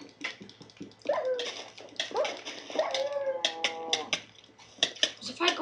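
Minecraft dog (wolf) in an Xbox 360 Hunger Games match, giving repeated short whimpering and bark-like yelps in bursts over several seconds, fairly loud and close, with other game sounds mixed in.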